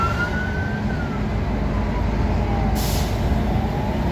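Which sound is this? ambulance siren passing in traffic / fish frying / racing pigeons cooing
ambulance siren passing in traffic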